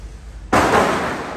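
A single loud firecracker bang at a wedding outside bursts out after a low rumble, its sharp crack decaying into a lingering, echoing wash outdoors.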